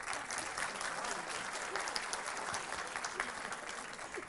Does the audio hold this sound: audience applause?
yes